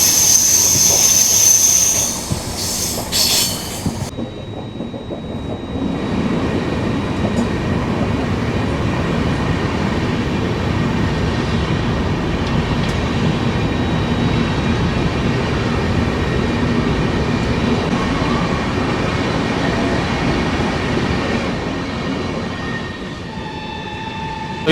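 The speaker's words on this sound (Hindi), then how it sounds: "तो बगल से कोई ट्रेन क्रॉस हो रही है।" Another train crosses alongside the Karnataka Sampark Kranti, a loud sustained rumble and rushing clatter of passing coaches heard from inside the moving train for over twenty seconds, following a brief sharper burst at the start, with no talk.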